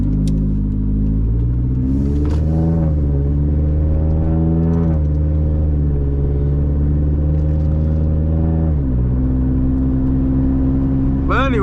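A 2015 Scion tC on BC Racing coilovers drives along with a steady, loud engine drone and road rumble, rising and falling gently through the revs, while someone talks over the cabin noise throughout.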